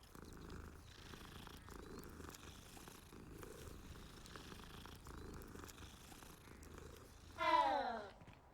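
A cat being petted in a Hogwarts video game purrs in a low, steady, rumbling loop for several seconds, then lets out one brief rising meow near the end.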